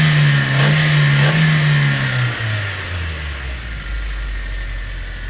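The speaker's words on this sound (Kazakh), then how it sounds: "Оборотторун көрөбүз, иншалла." A 2021 Bongo van engine revs hard up close, then its pitch slides steadily downward as it winds back toward idle over several seconds, loud with no talk.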